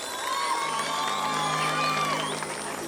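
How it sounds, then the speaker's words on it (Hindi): An audience at a night fair show cheers and whoops with scattered clapping, a dense, sustained crowd roar with excited shouts rising and falling throughout. "जोरदार ताली अपने लिए बजाइए"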